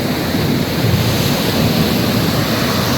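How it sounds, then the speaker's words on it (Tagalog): Large ocean waves break on the shore at a beach resort, a loud, continuous wash of surf roaring without pause and mixed with wind against the microphone. "Ito yung mga alon."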